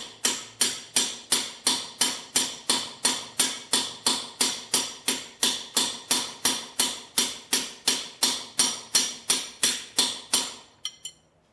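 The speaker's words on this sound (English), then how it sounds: "I'm going to be whacking on this one to push it down" Steady, evenly spaced hammer blows strike a seized piston in a Chevy 283 V8 engine block, about three per second for ten seconds, loud and close, ending with a couple of lighter taps.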